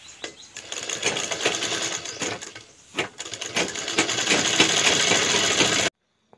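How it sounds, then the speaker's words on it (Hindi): An electric sewing machine stitching a blanket cover runs in bursts of rapid mechanical whirring and needle chatter, pausing briefly near the middle, then running steadily before stopping abruptly. "बाकी इस तरह से हम उसको सिलाई कर रहे हैं।"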